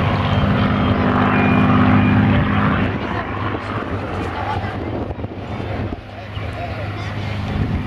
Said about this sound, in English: Spitfires, like the one you're seeing displaying today, fought in every operational theatre of the war